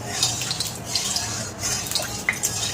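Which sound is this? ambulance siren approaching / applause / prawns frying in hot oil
prawns frying in hot oil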